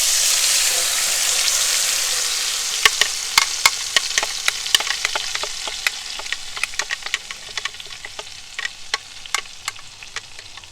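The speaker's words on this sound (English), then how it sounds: "time to put the blended ingredients in the hot oil" Blended satay paste hits hot oil with a loud rushing hiss that slowly settles, then gives way to a stream of sharp pops and crackles scattered across the rest of the frying.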